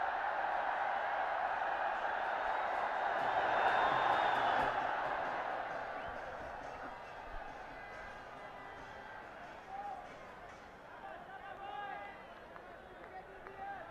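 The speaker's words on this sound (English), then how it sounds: "We can clearly hear the roar from the crowd" A crowd at a Nepal versus UAE cricket final sends up a broad, sustained roar, swelling loudest around the early seconds and then easing into a lower, steady hubbub of distant voices and whoops.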